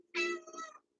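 A cat gives one clear, close meow that rises and then trails off, with quiet before and after.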